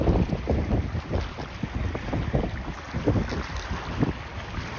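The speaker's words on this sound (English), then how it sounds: "It's windy." Gusty wind buffets the microphone in low rumbling bursts, with a steady outdoor wash behind it and no talking.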